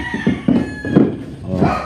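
Several chickens cluck nearby in short throaty bursts, a busy chorus on a large farm in the Philippines with steady background noise.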